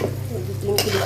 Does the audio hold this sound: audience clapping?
no